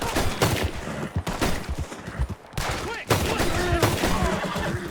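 Dense bursts of gunfire, rapid overlapping shots and volleys like a firefight, loud and continuous with brief gaps, mixed with other noise.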